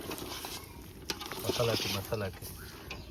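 Mutton frying in a pan, a moderate sizzle with scraping stirs, partly under a voice speaking in the middle.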